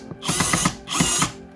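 A screwdriver drives self-tapping screws into imitation-timber wood paneling laid over vapor barrier while a country house is being finished. Two close whirring, ratcheting bursts, each about half a second long, are separated by a short pause.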